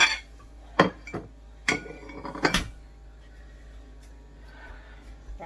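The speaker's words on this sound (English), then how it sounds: "Dishwasher is full of clean dishes, so why not just grab them out of here?" Clean plates, bowls and utensils clink and clatter as they are lifted out of a dishwasher, several sharp clinks close up, then quieter handling.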